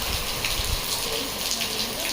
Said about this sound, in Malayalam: എത്തിയപാട് തന്നെ മഴ.